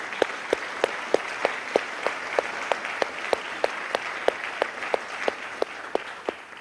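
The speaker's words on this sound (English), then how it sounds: "Let's give her a round of applause." Sparse audience applause with distinct rhythmic claps standing out above a softer wash of clapping, steady and moderately loud throughout.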